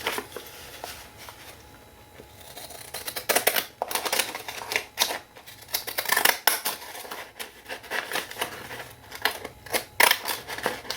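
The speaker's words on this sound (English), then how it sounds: "let's try one of these scissors." Scissors cutting through painted paper, a close series of crisp snips and crunches in irregular bursts, with short pauses between cuts and no talking.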